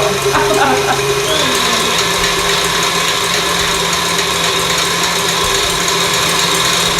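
An electric mixer beating teacake mixture at a higher speed, a loud steady mechanical whir that holds constant from start to finish, with brief talk early on.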